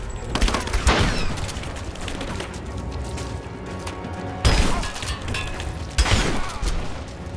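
Gunfire in a combat scene: several sharp, loud bursts of shots crack out at irregular intervals over a busy mechanical background, with a few distant voices.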